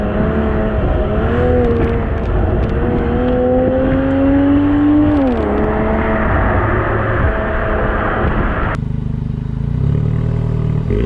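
Toyota GR Supra with a six-cylinder engine and an 8-speed Steptronic gearbox, heard on a racetrack as a loud, steady drone from a cabin that climbs and then drops with shifts and revs, with no talking.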